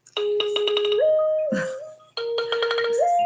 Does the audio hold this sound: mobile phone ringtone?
yes